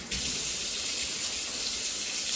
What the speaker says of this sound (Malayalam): പൈപ്പ് എന്തിനാ വെറുതെ ഓണാക്കിയിരുന്നേ?